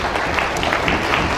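Audience applause at the close of a lecture on Islam: a steady wash of many hands clapping at moderate loudness, sustained throughout, with no one talking over it.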